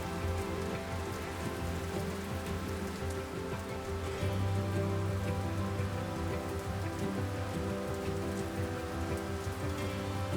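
Gentle rain falls steadily on a mountain snow trek, a dense continuous patter of drops close by with a low constant rumble underneath and no voices.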